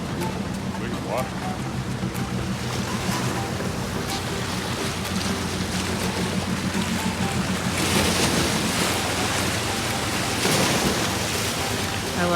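Ocean surf rolling onto Miami Beach, a steady broad wash of waves with gusting wind buffeting the microphone, continuous and fairly loud throughout, with brief voices faintly in the background.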